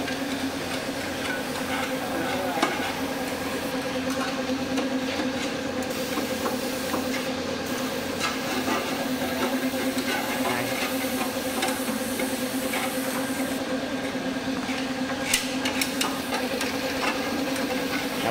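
A Kubota M7040 farm tractor engine idles in a steady, even drone with a low hum and faint hiss, running continuously and fairly close with no voices.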